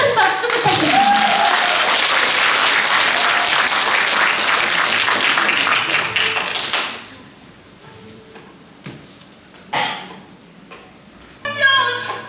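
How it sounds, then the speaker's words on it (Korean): Sustained crowd applause for a gayageum byeongchang singing performance in Gyeongju, loud and steady for about seven seconds, then fading to scattered claps and brief bursts with a little talk mixed in. "큰 박수 부탁드립니다"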